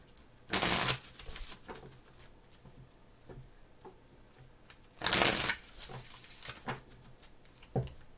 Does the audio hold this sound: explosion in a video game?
no